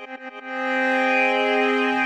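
Generative chords from Propellerhead Reason software with the Pulsar and Scales and Chords devices: a few quick stuttering note onsets, then a bright synth chord swelling and holding steady.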